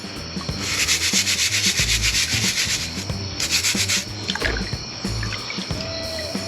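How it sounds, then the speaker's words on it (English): Blue quartz crusted with algae scrubbed hard with a brush, steady abrasive rasping strokes in bursts, close and loud, with brief pauses between passes. "This one's going to need lots more scrubbing. It's got algae all over it."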